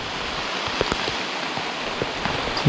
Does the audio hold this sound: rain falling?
yes